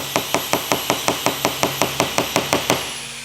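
A wrench strikes a film-protected car windshield again and again, about fifteen sharp, evenly spaced knocks each ringing briefly, with a steady whine running beneath.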